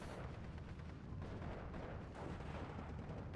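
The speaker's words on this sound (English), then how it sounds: "Engineer gets the TNT over. Explosion." TNT explosion in a war video game, a dense rumbling blast with crackling rolls of gunfire-like booms sustained at moderate loudness throughout.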